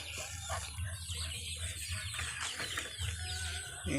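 Several backyard chickens cluck continuously and fairly close, forming a busy, overlapping flock chatter over a low background hum.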